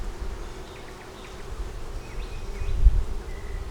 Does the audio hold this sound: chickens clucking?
no